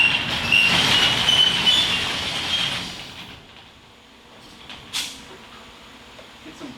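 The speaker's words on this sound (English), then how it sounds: "I'm gonna go open the big door here and turn the fan around." A big shop door rolls open with a long, loud metallic rumble and squealing for about three seconds, then settles to quiet, followed by a short clank and a few faint knocks.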